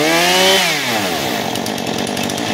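Husqvarna 435 chainsaw fitted with a new carburetor revs up sharply and then holds a loud, rough, buzzing high idle close by, with no voices.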